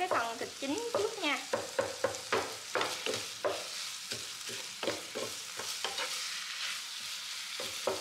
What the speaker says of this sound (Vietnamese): Mình xào cho cái phần thịt chín trước nha.